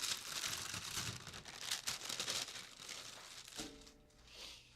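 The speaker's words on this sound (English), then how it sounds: "So let me pull my parchment paper off here." Parchment paper is peeled off a surface with a loud, close crinkling and rustling. The sound comes in uneven bursts, then fades to faint handling noise over a low hum.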